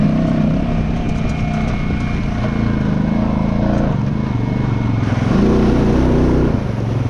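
An off-road vehicle's engine drones and revs steadily as it plows through a creek mud hole, a close, loud continuous rumble with a surge of revving near the end.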